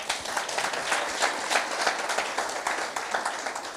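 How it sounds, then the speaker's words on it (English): Audience applause during a brand and marketing talk, a steady burst of many hands clapping at close range with no voices over it. "Please clap it up for him."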